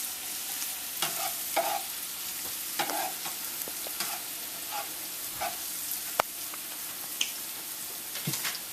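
Chopped onions and garlic fry in hot oil with a continuous low sizzle, and scattered scrapes and taps come from stirring at close range, no speech.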